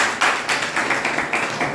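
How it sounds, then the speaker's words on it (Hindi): Classroom applause from a group of students during a maths lesson, a brisk, continuous patter of many hands clapping at once, fairly loud and close. "जोरदार तालियां इनके लिए।"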